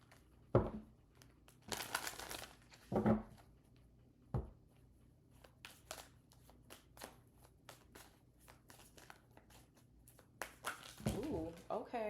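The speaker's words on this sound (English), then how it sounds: "Let's get a couple of tarot cards here." Tarot cards are handled and drawn during a money-and-career reading, with bursts of shuffling, riffling and papery flicks near the microphone between quieter gaps, and a voice speaking at times.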